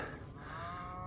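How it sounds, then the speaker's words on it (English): A single low cow moo, drawn out and fairly faint, heard in open outdoor quiet on a hillside near Pico da Cruz, Madeira. "the noisy cow has made its way up the hillside"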